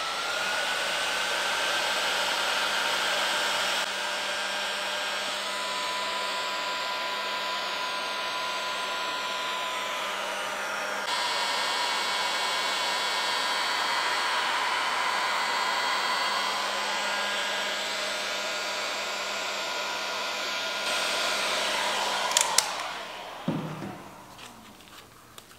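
A heat gun or hair dryer blows steadily for about twenty seconds while warming a rubber fork boot on a Honda CB750 motorcycle, then cuts off, followed by a few brief handling clunks.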